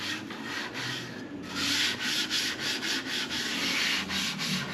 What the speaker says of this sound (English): Just take this Scotch-Brite and just lightly rough it up.